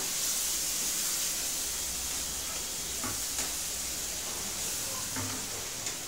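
Water poured over fried spice paste in a pan, giving a steady, moderately loud sizzle and hiss throughout with a few faint clinks, and no talking.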